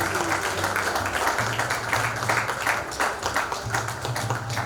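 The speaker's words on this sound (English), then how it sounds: "a loud, loud round of applause for this beautiful piece" Crowd clapping for a portrait of Mother Teresa at a Wonders of Womanhood award night, a sustained, even patter of many hands with a low hum beneath and a voice briefly over it.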